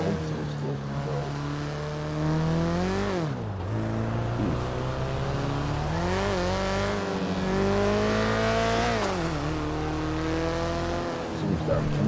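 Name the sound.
turbocharged Volkswagen Beetle rat rod accelerating, 600 horsepower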